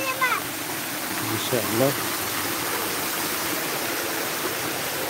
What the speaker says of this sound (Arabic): شلال الماء.